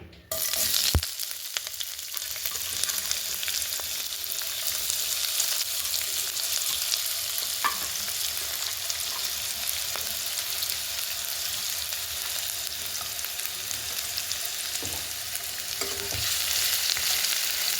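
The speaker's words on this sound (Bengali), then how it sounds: "তেল গরম হয়ে গেছে, গ্যাসের ফ্লেমটা আমি লো করে দিয়ে দিয়েছি। এবার পেঁয়াজ কোঁচানোগুলো আমি দিয়ে দেবো।" Chopped onions fry in hot oil over a low gas flame for aloo posto, giving a loud, continuous close sizzle with a few faint clicks and scrapes.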